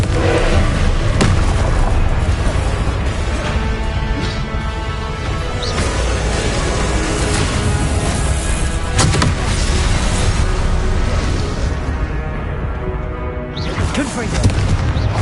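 Confringo spell blasts in Hogwarts Legacy boom repeatedly through a dense, constant wash of game noise and music, each impact a sharp hit rising out of the busy mix.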